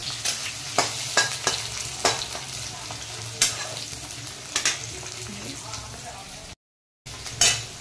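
Onion, garlic and green chilli frying in a pan, a soft sizzle under repeated sharp scrapes and clacks of a spatula stirring, fairly quiet and close, with one brief dropout near the end.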